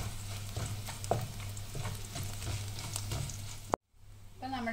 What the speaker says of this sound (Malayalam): ചുവന്നുള്ളി ഒന്ന് മൂത്ത് വരുന്നിടം വരെ നമുക്കൊന്ന് ഇളക്കി കൊടുക്കാം